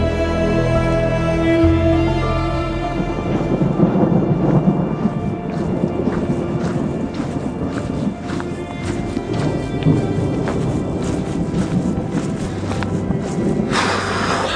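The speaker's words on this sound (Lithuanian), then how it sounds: "Labai gražus griaustinio garsas." Thunder rolls through a rainstorm during a solo hike between Švenčionėliai and Rašios lake, a loud, steady low rumble over the dense hiss of falling rain that continues throughout with no voices.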